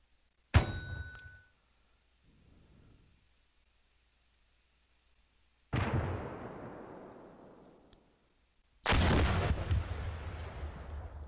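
Gunfire in the Steel Beasts Pro PE combat simulator: three loud, close booming shots, each with a long decaying tail, separated by quiet gaps and a faint rumble.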